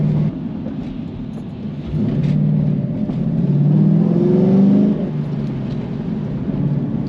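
A vehicle pulls away hard in first gear, its engine note rising in a loud, steady whirring rumble that climbs and then eases back, with no talk.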